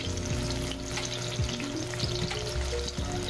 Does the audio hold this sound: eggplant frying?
yes